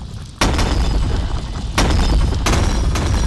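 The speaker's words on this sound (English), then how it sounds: "Use shotguns for extra range." Shotgun blasts in the video game Animal Company: three sharp, loud booms spaced over a few seconds, each followed by a brief ringing tail, with no talk.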